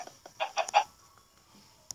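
Chickens in the video game Minecraft, a quick run of soft, short clucks packed into the first second, then near silence with a faint final click.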